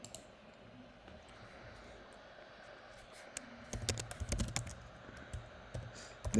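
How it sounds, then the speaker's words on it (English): Rapid keyboard typing on a computer, soft clicks that start quietly and grow to a denser, louder burst of keystrokes in the second half, with no speech. "let me just type this out for you"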